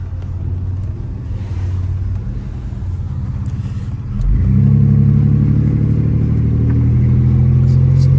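A Toyota Sequoia old truck with 372,000 kilometres rumbles along while driving, its engine note steady at first and then swelling into a louder, deeper drone as it accelerates partway through.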